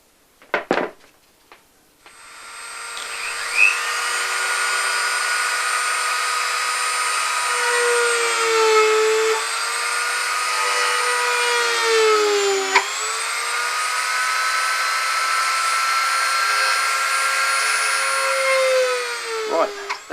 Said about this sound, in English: Next thing I'm going to do is start to put in those rivet holes.